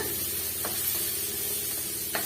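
Cabbage frying in a pan with turmeric, a continuous even sizzle with two faint scraping stirs.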